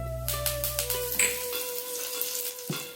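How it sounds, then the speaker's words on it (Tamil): Peppercorns, dried chillies and curry leaves crackle and sizzle in a couple of spoons of hot oil in a pan, a dense spitting fry up close with scattered pops and a faint clink. "அதில் 2 ஸ்பூன் எண்ணெய் காஞ்சிட்டு ஒரு 4 மிளகு போட்டுங்க. 2 காஞ்ச மிளகாய், ஒரு குடி கருவேப்பிலை"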